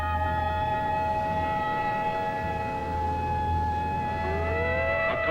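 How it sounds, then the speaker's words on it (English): A loud, steady air raid siren wails continuously, its sustained tones holding and then bending in pitch near the end. "Tomorrow, this siren may mean the real thing."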